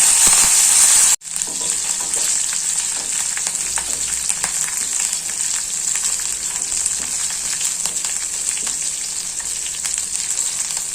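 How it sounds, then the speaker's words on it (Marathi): Finely chopped green chillies and curry leaves go into hot oil with cumin in a pan and set off a loud, steady sizzle and crackle that continues unbroken after a brief hiss at the start. "आता आपण मिरची कापून घेतलेली आहे बारीक, ती टाकूया। कढीपत्ता टाकूया।"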